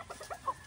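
A claret-breed rooster, wine red, gives a few short, soft clucking sounds in quick succession, ending in a slightly louder note.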